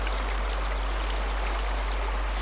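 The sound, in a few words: flowing water of the River Goyt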